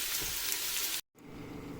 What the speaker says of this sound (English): we're going to saute some onions